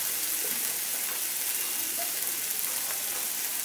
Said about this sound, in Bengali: এখন এই মশলাটাকে ভালো করে কষিয়ে নেব